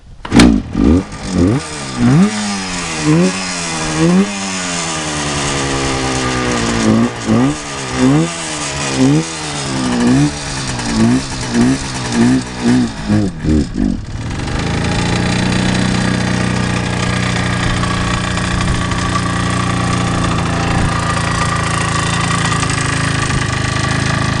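A stored 1972 Yamaha DS7 motorcycle with carburetors needing cleaning is revved in a series of sharp, rising and falling throttle blips for about fourteen seconds, then settles into a loud, steady idle nearby.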